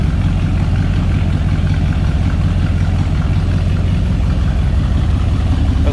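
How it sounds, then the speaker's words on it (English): A 1964 Ford Galaxie 500 convertible's 352 V8 idles with a steady, loud, close low rumble that stays even throughout. "A little rumble coming out of that 352."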